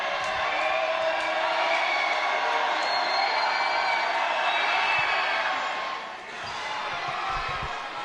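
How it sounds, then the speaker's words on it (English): The home crowd at a Gresham High School basketball game against Barlow, a steady loud wash of cheering and gym noise that holds throughout and dips briefly near the end. "The Gresham crowd trying to show their support for their Gophers"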